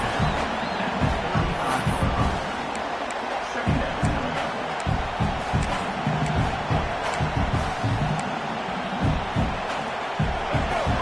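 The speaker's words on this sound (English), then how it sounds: "This crowd going to try to make life miserable for these guys." A packed stadium crowd roars steadily through a college football game between the Florida Gators and Texas A&M, the dense cheering broad and continuous with rising surges, while a commentator talks over it.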